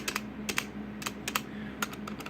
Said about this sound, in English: I noticed it with the heavier keys that they make a louder noise because they're cheaper